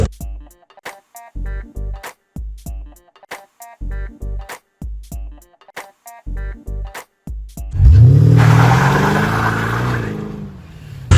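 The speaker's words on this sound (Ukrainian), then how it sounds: "Спробуємо, як машина їде." Short bursts of sharp clicks and knocks give way to a Mercedes-Benz CL550 (C216) engine revving up and driving on, a loud, steady roar with road noise.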